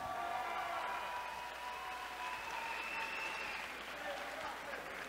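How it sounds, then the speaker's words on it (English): Applause from a boxing event audience after a bout, steady dense clapping throughout with faint crowd noise and some voices mixed in. "let's give these two fighters one more round of applause"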